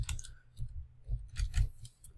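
Computer keyboard keys tapped while working in a design program, a few quick clicks early and then a denser cluster of key presses, close and fairly soft with no voices.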